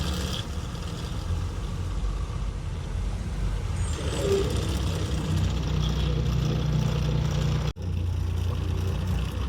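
Heavy night traffic on a Kerala road, with trucks and buses rumbling and idling close by, a steady low engine drone with occasional air-brake hisses and a brief dropout near the end.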